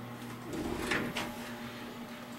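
A 40-year-old elevator door slides shut with one smooth mechanical rumble and a faint scrape, peaking near the middle of the stretch over a steady machine hum, close by and with no one speaking.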